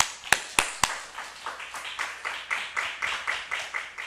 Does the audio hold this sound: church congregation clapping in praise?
yes